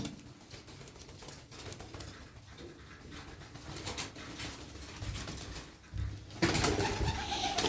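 Pigeons of several fancy breeds, including Baska, Bango and Dönek, coo steadily at close range, with soft patters and occasional wing flaps as the birds shuffle about.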